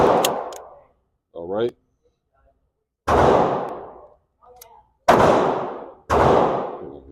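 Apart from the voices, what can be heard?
Glock pistol firing at a shooting range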